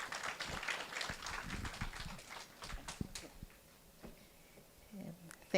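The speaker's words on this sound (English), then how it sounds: "Let's welcome her with a round of applause" Scattered clapping from a meeting audience at a stakeholders' forum, a steady patter of many hands fading after a few seconds, fairly distant and moderate in volume.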